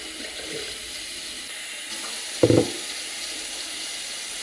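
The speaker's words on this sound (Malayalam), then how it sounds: "കുറച്ച് ചൂടുവെള്ളവും കുറച്ച് തണുത്ത വെള്ളവും കൂടെ മിക്സ് ചെയ്താൽ" Hot and cold water mixing in a kitchen, a tap running with a steady close hiss and a brief louder splash midway.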